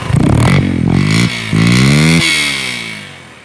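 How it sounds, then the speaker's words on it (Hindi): A motorcycle engine cranks on electric self-start and fires up, revving a few times before settling into a fading idle, close by with no voices. "बहुत लाइट सा पुश किया सेल्फ स्टार्ट का बटन और बाइक होगी स्टार्ट।"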